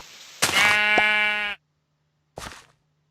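A Minecraft sheep bleats once in a long, harmonic wavering cry, then a second short bleat follows after a pause, clear and close.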